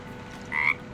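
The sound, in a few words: frog croaking in Baldur's Gate 3 video game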